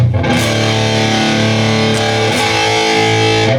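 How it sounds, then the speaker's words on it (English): Sustained, loud, heavily distorted electric guitar chords played in a hard-rock style, ringing continuously with dense overdriven harmonics and a brief chord change partway through. "Then you kick back into the distortion."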